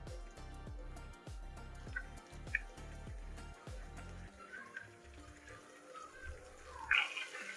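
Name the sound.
chicken pieces deep-frying in hot oil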